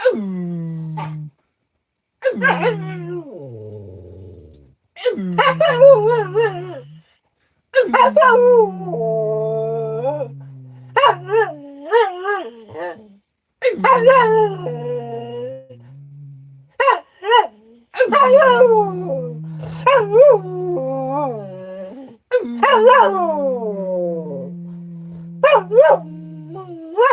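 A dog howls in long rising and falling wails mixed with short barks and yips, close and loud, in repeated bursts with brief pauses between them.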